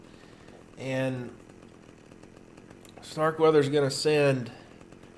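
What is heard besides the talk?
chainsaw cutting a door in the video game Manhunt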